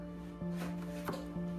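A knife chops through garlic cloves on a cutting board, trimming off the root ends, with three sharp close knocks spaced about half a second apart over a steady background hum.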